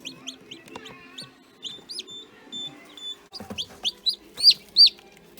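Newly hatched chicks from an incubator cheep in a series of high, sharp peeps, some close and loud, with quieter chirps and faint shuffling behind them.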